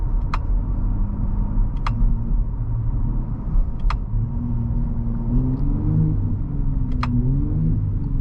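The engine of a 2022-2023 Ford F-150 Raptor rumbles loudly and close by at a steady, deep idle, with a rising, wavering rev near the end and a few sharp clicks.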